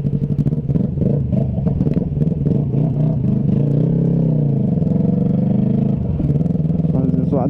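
Yamaha MT-03 motorcycle with an open exhaust pipe, revved hard nearby in a loud, rapid, pulsing bark that rises and falls repeatedly, with a brief dip near the end and voices faintly mixed in.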